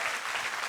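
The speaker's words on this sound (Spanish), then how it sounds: "Yo doy un aplauso a esta Biblia." Applause from a church congregation, a brief steady wash of clapping filling the room with no voices over it.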